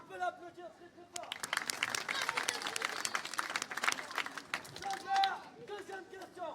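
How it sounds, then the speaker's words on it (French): A crowd claps loudly for a correct quiz answer, dense applause swelling after a brief spoken line and continuing under voices and cheering. "Bonne réponse, on peut l'applaudir très très fort."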